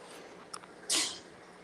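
A cat gives a single sharp sneeze, preceded by a faint sniff, in an otherwise quiet room.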